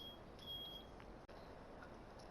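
A household smoke alarm sounds faintly in a room, a thin high-pitched electronic tone that holds for a moment, cuts out, then returns in a longer steady beep beneath low background hum.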